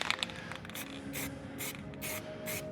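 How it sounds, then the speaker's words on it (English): Aerosol spray paint hissing onto rusty brake drums of a Chevy S10, coating them black in five or six short, sharp bursts separated by brief pauses. "when you put on new wheels, do not leave the drums rusty. Shoot them with black."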